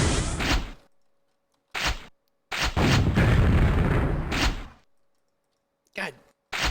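Weapon fire in a first-person shooter game built from an extended FPS template, a few loud booming shots in separate bursts with silent gaps between them, one longer rumbling blast in the middle, close and alone.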